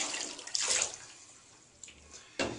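Water splashes and runs in a bathtub while a cat is bathed, hissing in uneven surges with quieter stretches between, close by and with no talking.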